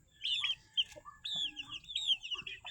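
Fighting roosters and mother hens with many chicks cluck and call in a backyard flock, with repeated soft clucks and higher chirps that are fairly faint and a little distant.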